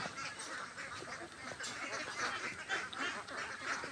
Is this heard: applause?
no